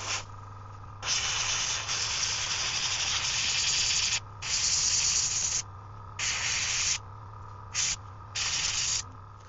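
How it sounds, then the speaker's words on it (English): An airbrush sprays runny gold paint onto a small 3D-printed trout fishing lure, coming in steady hissing bursts of one to three seconds separated by short pauses, close and even. "The gold is quite liquid, so I have to be careful while spraying."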